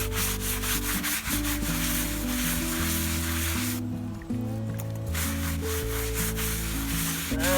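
A rag rubs oil finish across a sugar maple cutting board, a steady close scrubbing hiss that runs nearly continuously beneath louder background music.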